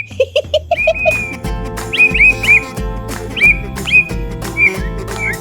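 A white-rumped shama sings clear, whistled phrases and chirps in repeated bursts over a low, busy background of rhythmic rumbling.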